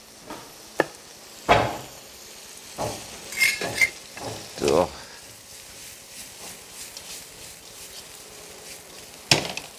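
Shrimp and green beans stir-fry in a pan for a spicy dish, with a continuous sizzle broken by sharp scrapes and knocks of a utensil against the pan.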